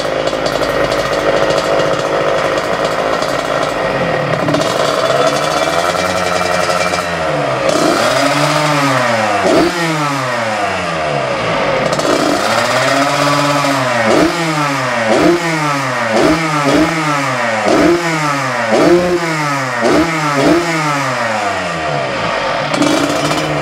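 Modified Yamaha RX King Cobra two-stroke motorcycle engine revving hard and alone, nearby and loud, with repeated sharp throttle blips rising and falling in quick succession after a steady idle.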